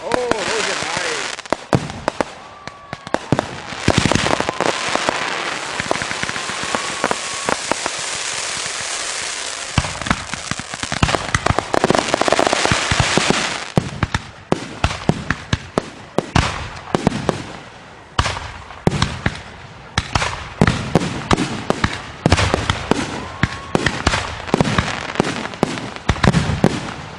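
A massive backyard fireworks show erupts in loud, dense volleys of bangs, crackles and rapid firecracker-like pops, nearly continuous with brief lulls, and voices can be heard among the blasts.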